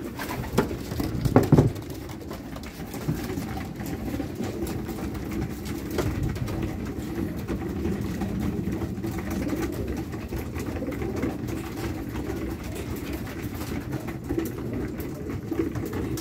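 Pigeons coo and rustle close by while feeding, over a constant low background hum, with a brief flurry of fluttering near the start.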